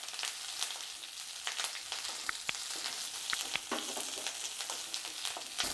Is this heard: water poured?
no